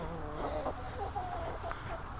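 Backyard chickens in a coop cluck and murmur in short, irregular bursts, fairly faint and close, with a low background hum and no talk.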